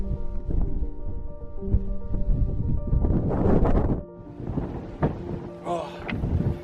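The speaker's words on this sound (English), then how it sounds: "it is pretty windy up here on Great Gable" Strong gusting wind buffets the microphone on the exposed summit of Great Gable in the Lake District, a loud continuous roar that surges and drops, with brief voice-like sounds breaking through near the end.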